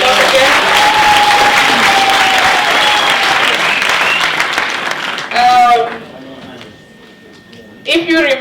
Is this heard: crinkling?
no